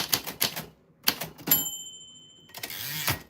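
A typewriter bell dings once with a long ringing tail, set among brisk key strikes before and after, clear and close with no talk.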